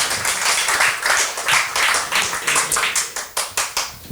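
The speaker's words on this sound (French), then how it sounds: "Vous pouvez applaudir le Seigneur." A church congregation claps for the Lord during a bilingual service, many hands beating in a loose rhythmic pattern that grows more regular and pronounced toward the end.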